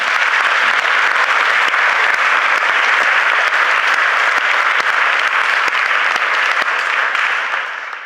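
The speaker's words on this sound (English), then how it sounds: "A huge round of applause" Sustained, loud applause from a large audience at a sustainable finance summit debate, dense and steady for about seven seconds before beginning to thin out at the end.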